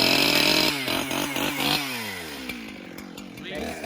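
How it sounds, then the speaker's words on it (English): An old chainsaw running loudly nearby, a rough two-stroke engine roar that revs up and down and settles toward idle, with voices heard under the noise. "Takes his daddy to start them old saws."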